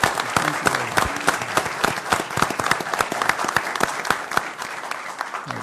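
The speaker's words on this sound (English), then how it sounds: "So let's all give them a round of applause." A room full of people claps at a county Board of Supervisors meeting. The applause is dense, lively and sustained, with crisp individual claps mixed into the continuous roar for the whole stretch.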